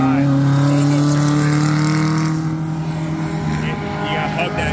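Vintage sports cars under 2.0 litres race round a corner at the Pittsburgh Vintage Grand Prix, engines droning loudly and steadily with strong low tones that shift slightly as they pass, while people talk over the noise.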